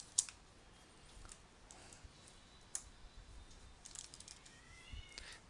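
Quiet, scattered clicks from typing code on a computer keyboard, with irregular keystrokes and a few sharper taps close by against near silence.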